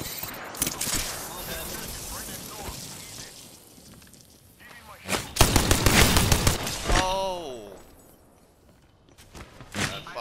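Gunfire from a nearby firefight in a shooter video game, with bursts of rapid shots and heavy volleys that swell midway through, set among footsteps and thuds while a player talks over the action.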